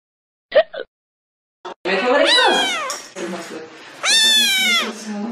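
A house cat meows loudly and insistently outside a bathroom door, several drawn-out, rising-and-falling yowls close by after a couple of brief knocks.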